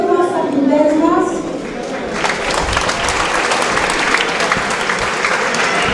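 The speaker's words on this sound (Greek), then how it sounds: "Ένα χειροκρότημα στα αθλητές μας." Loud crowd applause for the boxers at a professional boxing championship event in Greece, building from a quieter start into dense sustained clapping, with a voice speaking over the opening moments.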